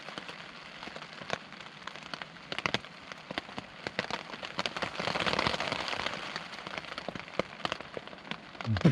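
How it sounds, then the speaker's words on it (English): Heavy Scottish downpour drums on a tent during a wild camp, a dense steady patter of countless drops with sharper individual hits crackling through, continuous and close all around. "This rain's just no halting."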